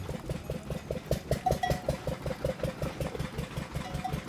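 A makeshift jugaad engine rigged to a farm fodder cutter on a Punjabi farmstead idles in a steady, rapid chugging rhythm, close and moderately loud, with faint background clatter.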